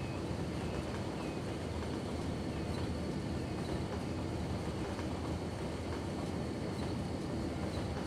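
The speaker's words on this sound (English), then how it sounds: "Oh, here comes another train." Train rolling past in the city-building game Cities: Skylines, a steady, dense rumble and rushing roar that holds at an even level throughout, with no voices over it.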